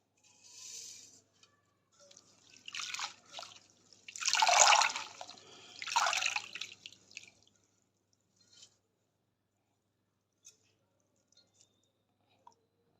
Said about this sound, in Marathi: हे कोथिंबीर मी एका चाळणीत निथळायला ठेवते